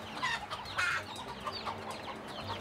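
Chickens at a village poultry farm cluck in short irregular bursts, a few close birds rising and falling against a quiet background.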